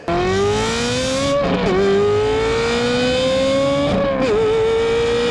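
A 2007 Ferrari F430 with a straight-pipe exhaust revs loudly up and down twice, its exhaust note rising steadily then dropping sharply, close and unmuffled.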